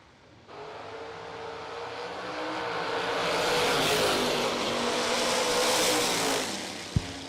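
Drag race cars running head-to-head at Kil-Kare Dragway, a loud sustained engine roar building and holding for several seconds before cutting off with a sharp bang near the end.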